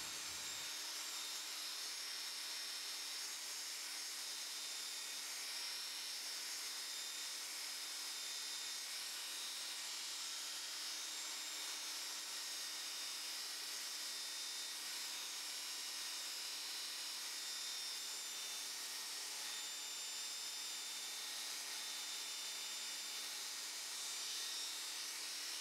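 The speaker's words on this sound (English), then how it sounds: "You need to set the machine going and ensure the blade is going at full speed" A machine saw spins at full speed with its blade cutting through acrylic sheet, giving a continuous high, even whine that holds steady throughout with no talking.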